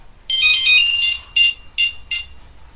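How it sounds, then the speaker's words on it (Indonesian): A phone ringtone plays for an incoming call, first a sustained melodic ring, then three short repeated bursts, clear and close with no talk over it. "Oke, sebentar ada telepon."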